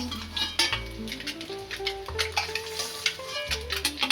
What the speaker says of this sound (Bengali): আমি ডিমগুলো লাল করে করে ভেজে নিয়েছি সব ডিম এখন আমি উঠিয়ে নিচ্ছি